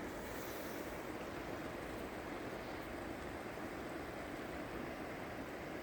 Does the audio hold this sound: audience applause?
no